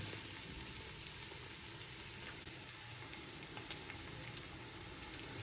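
Sliced onions, a handful of mint and a handful of coriander sautéing in a pan for prawn biryani, giving a faint, steady low sizzle with light stirring and no voices.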